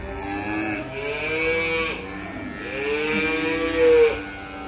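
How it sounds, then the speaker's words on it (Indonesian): Simmental cattle at an animal market in Sleman, with two drawn-out moos heard close and clear, rising and falling in pitch over a quiet background. "di depan saya ini adalah indukan dengan kualitas super. Jenisnya adalah sapi simental."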